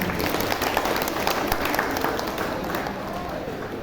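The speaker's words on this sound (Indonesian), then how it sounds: "Beri tepuk tangan program." Applause from parents and guardians at a school committee gathering of SDIT Salsabila in Jetis, Bantul, Yogyakarta, a steady broadband wash of clapping through the whole stretch, with crowd noise mixed in.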